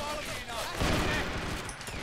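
Thompson submachine gun fire in a strategy game, a short rattling burst of rapid shots breaking in partway through, moderately loud with faint background battle sounds.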